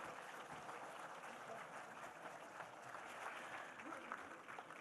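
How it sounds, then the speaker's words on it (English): An audience applauds the Vice President at the close of his speech at a national conclave on AI, a continuous, even wash of clapping from a large hall, moderately distant. "I think we can have a louder round of applause, ladies and gentlemen"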